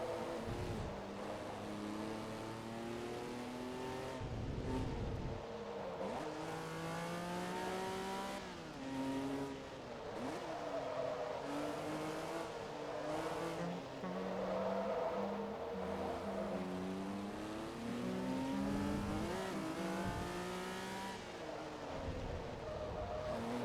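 A Ferrari race car engine in a rally video game snarls and revs through repeated rising gear sweeps, with occasional tire squeal, loud and continuous throughout with no talk.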